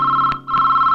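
A telephone rings loudly and close, a steady electronic tone broken by a short gap, with no talk over it.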